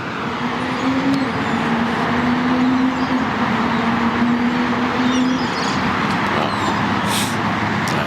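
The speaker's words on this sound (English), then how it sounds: "that's definitely a Porsche. It sounds like a flat six." A Porsche 911 with a flat-six engine drives past, giving a steady, loud engine drone that holds through most of the clip. It is heard alone, with no talk.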